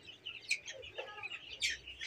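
Several 29-day-old chickens cluck and murmur in short bursts close by, with a few higher chirpy notes mixed in.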